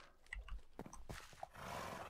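A horse in Minecraft stuck in water, giving a few short, quiet snorts and sounds, with a faint splash and a rising wash of noise toward the end.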